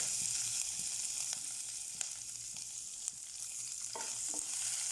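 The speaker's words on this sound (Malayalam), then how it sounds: "ഒരു കുക്കർ അടുപ്പിൽ വെച്ച് ഒരു ടേബിൾ സ്പൂൺ വെളിച്ചെണ്ണ ഒഴിക്കുക ഇഞ്ചി വെളുത്തുള്ളി പച്ചമുളക്" Ginger, garlic and green chili sautéing in coconut oil inside a pressure cooker on the stove, a steady close hiss of frying with a few faint stirring scrapes and clicks.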